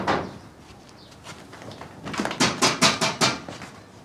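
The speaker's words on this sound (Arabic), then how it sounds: "مش سامع الباب؟" Someone knocks on a door. After a couple of seconds of quiet room hiss comes a quick run of about eight crisp, moderately loud knocks.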